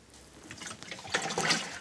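Fine spray of water on a freshly sown, rolled and tamped flower meadow, a soft hiss that swells louder toward the end, with no voices.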